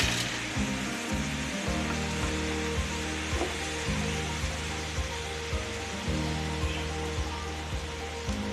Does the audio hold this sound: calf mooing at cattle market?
no